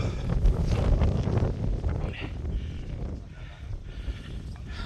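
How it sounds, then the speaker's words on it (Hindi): Strong wind on a mountain at Montserrat buffets the microphone with loud, rumbling gusts that ease and return, and a voice is faintly audible underneath. "आई थिंक आप सुन सकते हो माइक में कि कितनी तेज़ हवा चल रही है।"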